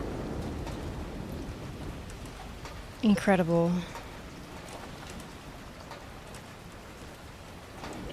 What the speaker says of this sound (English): I know it's just rain, but it's like that really comfy rain sound